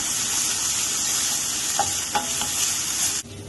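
Garlic-ginger paste sizzles loudly in a hot pan for chicken tikka masala while being stirred, with a few scraping knocks over the hiss before the sound cuts off abruptly.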